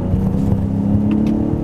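Engine of a 2017 Ford Raptor pickup truck revving hard as it accelerates onto a road in Miami, a loud, steady low rumble and whir that holds throughout without any talk.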